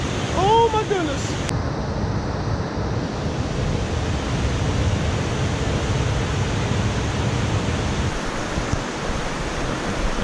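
Steady, dense roar of a waterfall along the Appalachian Trail fills the whole clip, with a brief whistle-like tone near the start.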